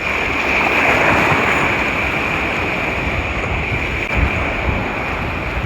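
Strong ocean waves at high tide crash and wash continuously onto the shore, a dense roaring surf with heavy wind buffeting the microphone throughout, and no voices.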